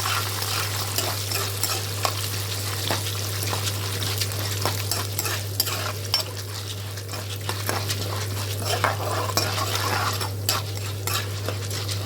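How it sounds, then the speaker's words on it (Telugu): Urad dal and another ingredient fry together in a pan, giving a continuous crackling sizzle broken up by frequent scraping strokes of a spoon stirring them, with a low steady hum underneath. "ఒక 2 టేబుల్ స్పూన్ మినప్పప్పు కూడా వేసుకుని రెండు కలిపి వేయించుకోండి."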